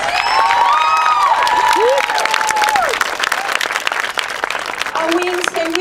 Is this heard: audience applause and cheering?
yes